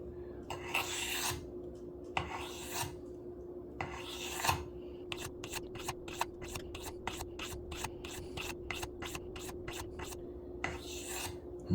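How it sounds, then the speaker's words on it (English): A pocket knife blade rasps across a whetstone in a run of gritty swipes, first a few slower long strokes, then a quick, even series of short scrapes, close and fairly quiet. "I'm going to do a lot of reps as far as how many swipes down the stone I do"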